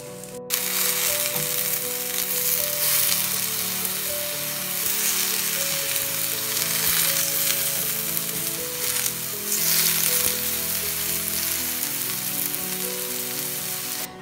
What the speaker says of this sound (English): I've finished grilling my aubergines